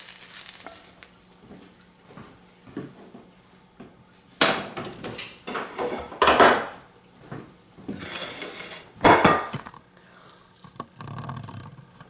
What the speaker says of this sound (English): Now, what we want to do is we want to put it on a plate.